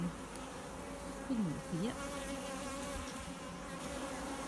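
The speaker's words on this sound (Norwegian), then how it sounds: "Vi ser masse bier øverst på tavla." Honey bees hum steadily from an open hive in late summer, a dense continuous drone close by, with a few louder individual bees swooping past the microphone and brief talk faintly in the background.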